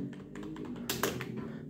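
Typing on a Zebronics Zeb Transformer-K membrane gaming keyboard, a quick run of soft, close keystroke taps with a brief cluster of louder presses near the middle, no voices.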